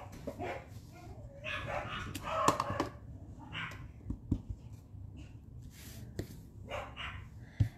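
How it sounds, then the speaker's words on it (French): Several dogs in a home bark and yip in short, irregular bursts, fairly near and moderate in loudness, with a few sharper yelps standing out over a steady low room background. "ça fait japper mes chiens"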